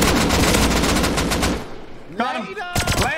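Automatic gunfire rattles in the survival video game Rust, a dense, loud burst of rapid shots lasting over a second, followed by quieter scattered game sounds and a couple of short later shots.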